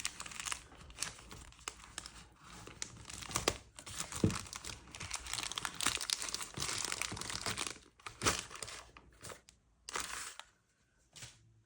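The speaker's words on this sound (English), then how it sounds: "let's rip this package open" Someone rips open a shipping package holding a Samsung Galaxy Z Flip 3, with close, noisy crinkling and tearing of packaging in uneven bursts for several seconds before it fades to near quiet.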